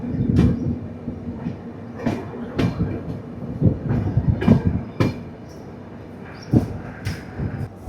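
A train rolls into Hassan junction on the Bangalore to Mangalore line, its wheels beating out a steady clickety-clack of rhythmic thumps over rail joints, loud and close from inside the carriage.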